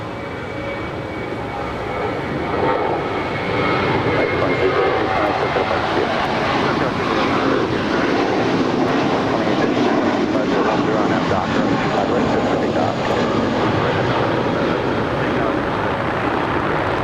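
An American Airlines Airbus A321 jet roars down runway 25 right at Los Angeles LAX on its takeoff roll, a broad, loud engine rumble that swells and holds steady for the whole stretch.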